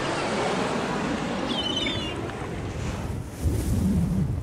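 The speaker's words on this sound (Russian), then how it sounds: "Вот это волна!" Rushing water and surf noise with steady wind buffeting, a louder swell surging in near the end.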